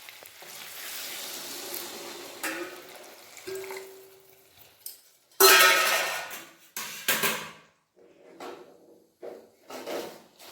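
Hot water poured into a pot of goat head meat already browned in oil hisses and sizzles in sharp bursts, with clanks of the pot between quieter stretches.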